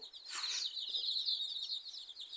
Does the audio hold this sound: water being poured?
no